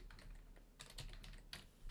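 Typing on a computer keyboard while writing an int array in a Godot script, with clusters of close, fairly loud keystrokes arriving in short bursts and no voice.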